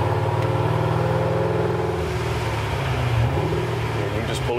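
A bagged, highly optioned 1966 Chevrolet C10 pickup with an LS engine swap runs with a steady, loud, close exhaust rumble and a slight rise in pitch, and voices can be heard over the engine.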